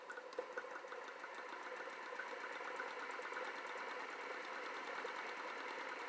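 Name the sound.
Newman motor running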